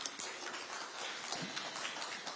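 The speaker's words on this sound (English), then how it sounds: "Warm applause." Warm audience applause at an education research event, a fairly faint, even patter of many hands clapping, steady throughout with no voices.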